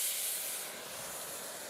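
Water poured into a hot caramel pan sets off a loud burst of hissing steam that eases into a steady, softer sizzle, with no talk over it.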